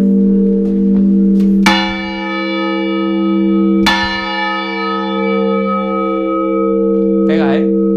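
Church bells at the Parroquia de San Ildefonso ring a festive peal for the Virgen del Monte 2019, loud struck strokes with long sustained humming overtones, and a brief voice near the end.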